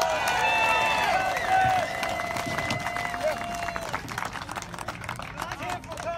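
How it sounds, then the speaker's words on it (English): Loud crowd applause and cheering at a pro-Trump rally near the border, dense clapping sustained throughout with scattered whoops and a bright tone over it, easing slightly toward the end. "One more round of applause."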